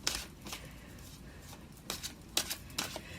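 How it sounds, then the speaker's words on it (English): A deck of tarot cards being shuffled by hand in short riffling bursts, several quick crisp flurries with brief pauses between, close and fairly quiet. "Three more shuffles."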